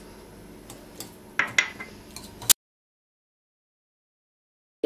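A spoon stirs a yogurt and spice marinade for chicken in a bowl, giving a few close clinks and scrapes against the bowl before the sound cuts to silence.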